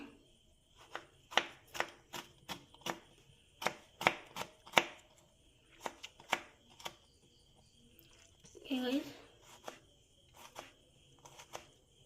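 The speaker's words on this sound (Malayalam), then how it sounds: "നമുക്ക് തക്കാളി ചെറുതാക്കി കട്ട് ചെയ്തെടുക്കാം." A knife chops a tomato into small pieces on a board, a run of sharp, separate taps in quick irregular bursts, close and fairly quiet with short pauses between strokes.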